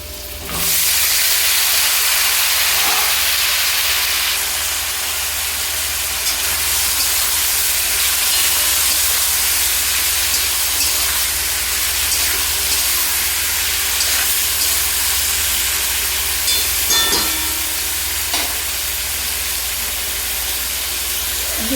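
Chopped ridge gourd and eggplant fry together in the pan used for a light rohu fish curry, giving a loud, steady sizzle and hiss that runs unbroken for the whole stretch, with no talking.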